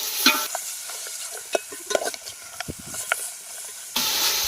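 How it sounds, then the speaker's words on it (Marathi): Pieces of mutton are stirred with a ladle in hot oil, a hissing sizzle with scattered ladle knocks and scrapes that swells sharply louder near the end, no talking. "आपण असं तेलात जे आपण तेल तापायला ठेवलेलं त्यामध्ये टाकून द्यायचं आणि पळीच्या सायाने व्यवस्थित हलवून घ्यायचं"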